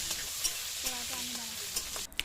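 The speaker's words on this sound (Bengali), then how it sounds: "গরম তেলের মধ্যে সব ফোড়নগুলো দিয়ে দিলাম।" Whole spices crackle in hot oil for a tempering, a close, quiet-to-moderate hiss broken by quick spitting pops and a brief scrape near the end.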